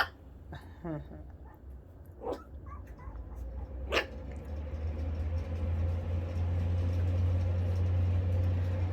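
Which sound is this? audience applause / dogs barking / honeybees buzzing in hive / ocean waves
dogs barking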